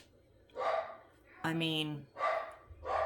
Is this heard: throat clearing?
no